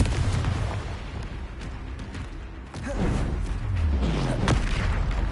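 Confringo spell explosions in the video game Hogwarts Legacy, heavy booming blasts with rumbling low-end tails, one midway and another building near the end over a busy battle soundscape.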